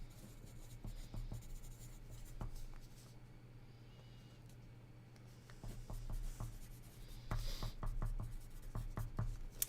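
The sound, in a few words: writing on a sheet of paper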